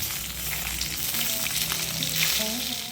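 Small chhati fish frying crisp in hot oil in a pan, a steady close sizzle and crackle running through the whole stretch with no talk over it.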